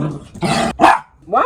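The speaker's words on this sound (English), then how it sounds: "Why are you growling at me?" A pet dog named Luna growls and grumbles at close range in a few short bursts, with a sharper bark-like snarl in the middle.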